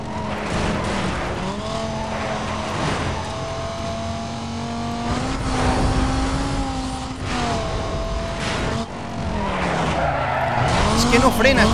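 Dodge Viper race car in Need for Speed Most Wanted, engine droning with shifting pitch while tires skid and squeal through a lap, loud and continuous, with someone talking over it.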